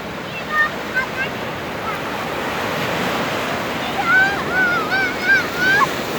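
Sea surf at Samsun, Turkey, washing and rolling continuously with wind buffeting the microphone, plus a few high calls that sound like distant gulls.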